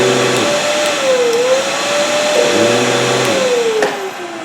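Riccar S40P or R40P vacuum cleaner running close by, a loud steady motor whine with slight pitch shifts, tailing off briefly at the end.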